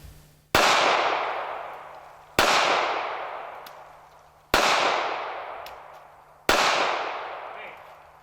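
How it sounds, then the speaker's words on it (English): Four sharp gunshots from a small Ruger LCP II .380 pistol fired at a paint can, evenly spaced about two seconds apart, each loud crack trailing off in a short ringing decay. "So let's see if they shoot in this gun."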